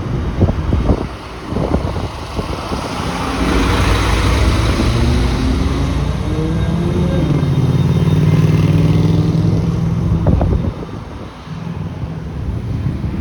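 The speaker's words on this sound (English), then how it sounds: "this motorcycle is not so loud" A motorcycle rolls past on a busy city street, its engine rising as it approaches and fading away, moderately loud under heavy wind buffeting on the microphone and other traffic rumble.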